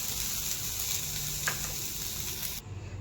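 Soybeans fry in hot oil in a kadhai, a dense, steady crackling sizzle close by that cuts off abruptly just before the end and leaves a low rumble.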